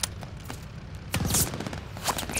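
A short burst of rapid gunfire from the PS5 campaign of Call of Duty Vanguard, with faint scattered shots before and after the loud main volley.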